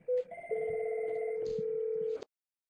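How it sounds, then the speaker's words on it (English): A phone rings once on an internal call between two extensions in a corporate Cisco voice system, a steady electronic ring tone lasting a couple of seconds before cutting off into silence. "It rings once at James' phone."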